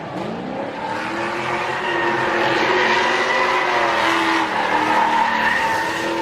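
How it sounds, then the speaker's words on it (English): Race car at a grassroots qualifying round, bumper torn off after wall contact, its engine droning with a rising, wavering pitch over a harsh scraping and tire-squeal texture, loud and continuous. "Dragging that bumper along."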